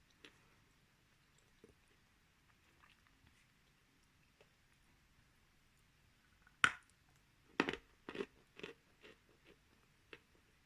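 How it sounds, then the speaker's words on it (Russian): Bashkir clay is bitten and chewed up close, with a few quiet early crunches and then a cluster of sharp, crisp bites and grinding chews in the second half. "Глинка очень комфортная для зубов. И откусывается легко, и жуется без проблем."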